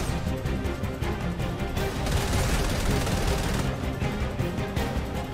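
Rapid charge SMG gunfire in the video game Fortnite, loud dense bursts of automatic shots crackling continuously over game noise.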